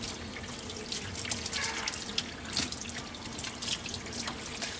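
Running water splashes and trickles steadily while a dog is being washed, close and continuous with small irregular drips and splatters and no speech.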